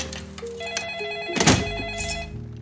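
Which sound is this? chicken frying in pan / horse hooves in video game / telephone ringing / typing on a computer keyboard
telephone ringing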